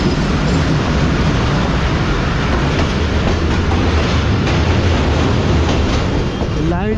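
The Karachi Express rolls along the rails in winter, a loud, constant roar and rumble of coaches with faint rhythmic clatter, heard close from on board.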